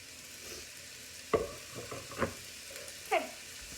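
Chopped vegetables sautéing in a hot pot as the base for a one-pot lentil soup, with a few soft stirring scrapes and brief sizzles over a quiet, steady background.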